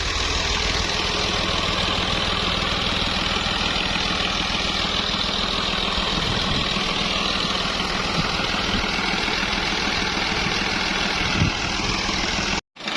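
An old 1980 Fiat 480 tractor, a 55 hp model, idles with a steady low diesel chug and rumble heard close, running unchanged for the whole stretch before a brief cutoff at the end.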